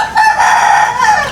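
A chicken gives a loud, close, drawn-out call, a single sustained crowing cluck that wavers in pitch for about a second.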